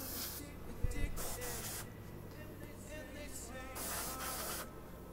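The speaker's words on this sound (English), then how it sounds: "And when you're airbrushing, you have to go over it again." Black paint hisses steadily from an airbrush onto high top shoes in close, bursty sprays separated by short pauses, with a faint knock near the start.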